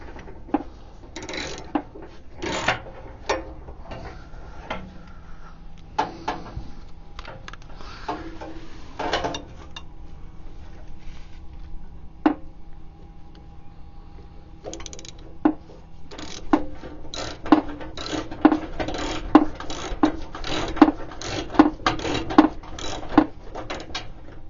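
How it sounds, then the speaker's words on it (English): Metal bolt being tightened on a Subaru shifter joint, with irregular close ratchet clicks and mechanical rattles that speed into a rapid run of ratcheting toward the end, no talking. "Now I'm going to try to tighten that bolt back there without knocking anything apart."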